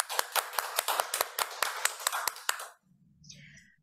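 Audience applause for a speaker at a French-language speech contest, a steady run of claps for nearly three seconds before fading out into quiet murmuring.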